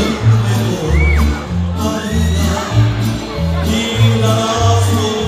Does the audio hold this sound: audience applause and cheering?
yes